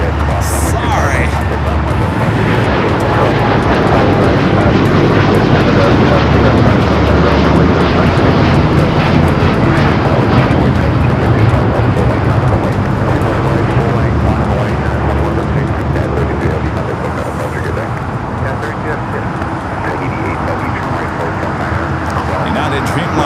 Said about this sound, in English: United Dreamliner taking off here on the south side.